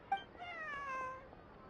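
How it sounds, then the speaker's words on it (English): A cat in Genshin Impact gives a single clear, drawn-out meow, rising then falling, heard close and alone. "I believe this cat belongs to me."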